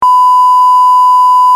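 Censor beep added during editing of a motorbike trek video from the Parasnath Hills in Jharkhand, a loud, steady pure electronic tone held for about a second and a half, alone with no talking.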